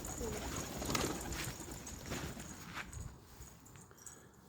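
Homing pigeons coo softly in a loft in a repeating, throaty rhythm over a busy background of shuffling and faint rustling, with a hint of distant voices.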